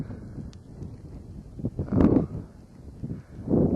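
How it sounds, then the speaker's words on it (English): Wind gusts at Meteor Crater buffet the microphone in low, rumbling surges that rise and fall, loud and close, with no voices. "It's always really windy here"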